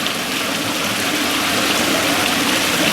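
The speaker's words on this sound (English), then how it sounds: "as the water is getting sucked into the pump" Loud, continuous rushing and gurgling of water being drawn into a fish tank pump, close and steady like a small stream, with no voices.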